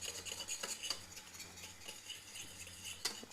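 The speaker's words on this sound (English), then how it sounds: "make sure that you get your whisk everywhere. Your whisk must to be everywhere." A whisk stirs crème pâtissière in a metal pot, with steady soft scraping and faint rhythmic metallic ticks against the sides, close and quiet.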